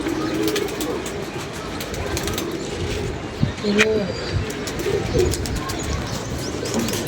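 Soft pigeon coos rise a few times amid busy outdoor background noise and nearby chatter.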